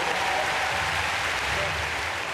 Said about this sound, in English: And a very warm applause from the crowd.